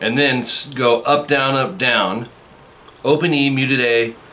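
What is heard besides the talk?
No distinct noise like a dog, phone or traffic.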